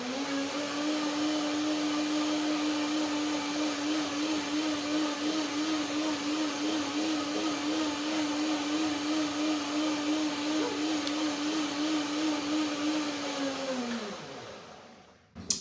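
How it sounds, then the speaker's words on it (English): A blender whirs steadily at high speed for about fifteen seconds blending peanuts and macadamia nuts, a loud continuous motor drone with grinding texture, then winds down and stops. "So one more blender dance to see they can get the texture really nice."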